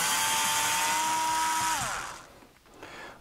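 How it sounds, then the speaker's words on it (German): A cordless power tool spins to loosen screws in a car dashboard while fitting an Android radio, a near, loud whir that winds down in pitch and stops partway through, followed by faint handling. "Und dann können wir hier die beiden Schrauben ganz einfach lösen."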